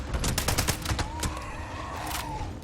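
Gunfire in the video game Fallout 76 rattles off as a dense, rapid burst of shots, loud and continuous over a sustained tone, with no voices.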